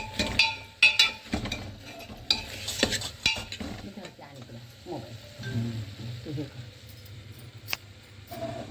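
Bitter gourd curry with spices and peanut powder is stirred in a hot pan, with a soft sizzle under the scraping, clinking spoon strokes. Voices talk at moments throughout.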